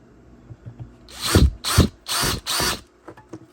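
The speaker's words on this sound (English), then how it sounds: "Since I'm drilling steel, I don't want to get it in my eyes" A power drill drilling steel whines through several short bursts, rising and stopping in quick succession, close and loud, with small clicks and knocks between.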